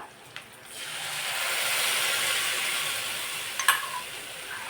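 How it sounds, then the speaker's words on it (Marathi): Tempering crackles and sizzles in an iron kadhai for yogurt kadhi, a soft hiss rising and holding steady with a couple of sharp spatters near the end. "छान अशी चर फोडणी बसली पाहिजे"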